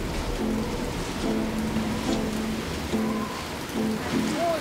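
Steady rain falls outdoors as a soft, continuous hiss, with a few faint tonal sounds drifting through in the background.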